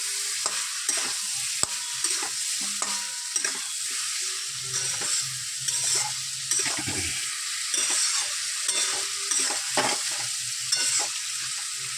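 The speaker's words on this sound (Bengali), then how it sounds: "মশলার সাথে আলুটাও কষিয়ে নেবো ভালো করে" Potatoes and spices stirred and fried in a pan sizzle steadily up close, with repeated scraping strokes of the spoon against the pan and no talking.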